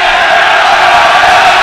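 Basketball crowd at a high school game, Elder Panthers versus LaSalle Lancers, letting out a sustained, loud roar of cheering and shouting across the whole gym, steady throughout.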